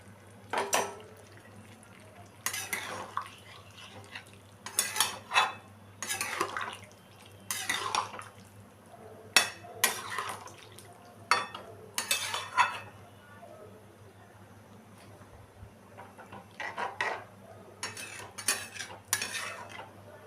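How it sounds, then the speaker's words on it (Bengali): Vegetables in a pot being stirred with a paste of ground pepper and milk, giving repeated soft scrapes and clinks of a utensil against the pot in irregular strokes over a low steady hum. "ভালো করে আমি নাড়া দিয়ে দিলাম।"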